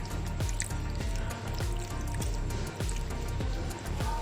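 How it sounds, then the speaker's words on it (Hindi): Vinegar is sprinkled over chicken for a tawa-fried shawarma marinade, making soft wet drips, squishes and patters that repeat irregularly at close range for several seconds. "यहाँ पे आधा कप जो है ये हमारे पास है सिरके का, इसके ऊपर हम ऐसे बिस्मिल्लाहिर्रहमानिर्रहीम छिड़का देंगे।"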